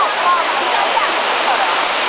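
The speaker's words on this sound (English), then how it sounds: "The artificial waterfalls have been constructed here to form several pools." Artificial waterfalls pour into a series of pools on the White Water River below Jade Dragon Snow Mountain. The close, loud rush of water is continuous and unbroken.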